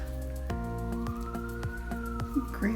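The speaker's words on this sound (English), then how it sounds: "there's a lot of sirens lately." A police siren wails steadily in the distance, its tone slowly rising and falling, while sharp knocks land at regular intervals over a low background hum.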